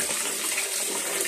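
Water runs steadily from a tap during bathing in a home with filtered water, a continuous close hiss and splash without pause.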